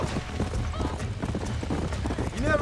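Horses' hooves clip-clop at a steady walk on a dirt trail in the Western video game Red Dead Redemption, close and continuous, with a horse snorting briefly and voices talking over the sound.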